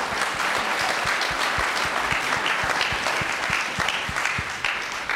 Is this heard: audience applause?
yes